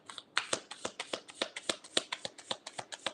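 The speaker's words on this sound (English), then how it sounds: "Can I shuffle these cards while you're there?" Tarot cards are shuffled by hand, a quick run of about twenty crisp, evenly spaced riffs and slaps, close and clear with no talking.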